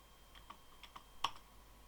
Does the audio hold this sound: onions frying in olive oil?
no